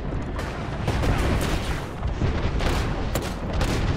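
Sustained automatic gunfire and booming impacts from a battle royale shooter match in Apex Legends, loud and dense, with rapid overlapping shots and blasts continuing throughout and no voices over them.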